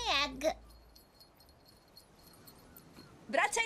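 A dog in a Teletubbies children's gymnastics segment gives short whimpering yips at the very start and again at the end, with a quiet stretch between.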